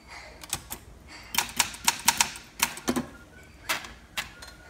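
Keystrokes clack on a Script Olympia SM8 typewriter, a few scattered taps followed by a quick run of sharp strikes and two later isolated hits, close and crisp with no voices.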